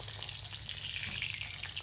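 Hilsa fish head frying in hot oil gives a steady, close, dense sizzle that holds evenly throughout the short stretch, with no voices.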